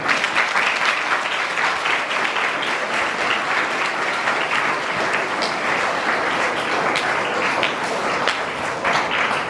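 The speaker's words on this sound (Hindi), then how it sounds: "और एक ताली अपने पेरेंट्स के लिए" A large group of schoolchildren claps for their parents, producing steady, dense applause that holds evenly for several seconds without voices.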